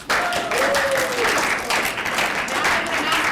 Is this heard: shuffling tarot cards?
no